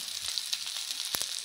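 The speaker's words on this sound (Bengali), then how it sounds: "মাছগুলো আমি দিয়ে দিয়েছি, ভালো করে ভেজে নেব।" Small fish fry in a pan with a steady, close sizzle and crackle. A couple of sharper spits and scrapes stand out near the end.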